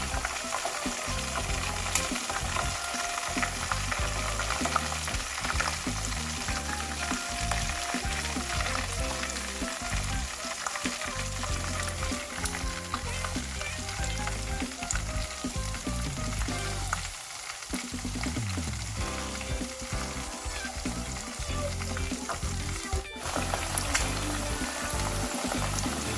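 Vigorous, continuous sizzling and crackling of pork ribs deep frying in hot oil, close and steady throughout.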